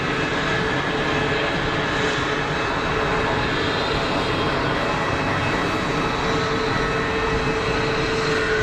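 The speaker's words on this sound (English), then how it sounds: "EasyJet Neo is rolling for taxi." An EasyJet A320neo airliner's engines roar at Geneva Airport as it rolls for taxi, a loud, steady broadband rumble and whine that holds constant throughout with no voices.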